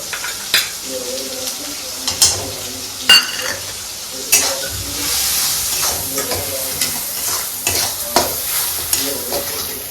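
Salt, turmeric and chilli powder being stir-fried in a hot pan, a loud close sizzle with repeated clacks and scrapes of a spoon against the pan, the frying hiss swelling in the second half.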